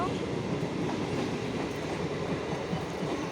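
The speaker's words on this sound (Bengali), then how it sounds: "বসে থাকতে একটা দুইখানা ট্রেন চলে গেল" A train rolls steadily past at close range, a loud continuous rumble of wheels and carriages with faint rhythmic clatter on the rails, filling the whole stretch without a break.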